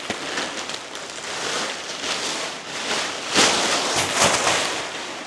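A large 8-by-10-foot tarp rustles and crinkles steadily as it is handled and unfolded, a dense papery crackle that swells into louder bursts toward the end, with no voices.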